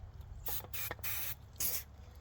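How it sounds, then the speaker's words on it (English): Contact cleaner sprayed onto the electrical contacts of a freshly installed throttle body on a 2012 Ram 3500 6.7 diesel, three short hissing aerosol bursts close to the mic. "Let's spray some cleaner on them contacts."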